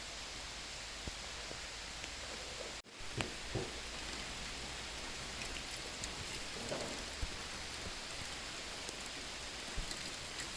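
Light rain falls outdoors as a soft, continuous hiss, with a brief thud near the start and scattered faint drips and taps throughout.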